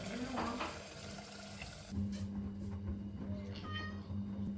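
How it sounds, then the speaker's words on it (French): A house cat meows several times, close and clear, while a water tap runs steadily into a sink in the background, without any speech. "il faut s'occuper du chat aussi"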